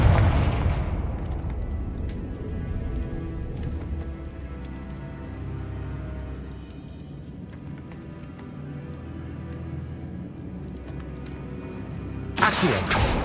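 Fiery Confringo spell blasts in the Hogwarts Legacy video game, heavy booming impacts with rumbling low-end that sustain and fade, followed by a sharp bright burst near the end.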